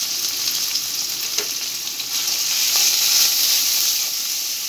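Spice paste of ginger, garlic, cumin and onion frying in a little oil, a steady close hiss and sizzle with faint stirring ticks, swelling slightly in the middle.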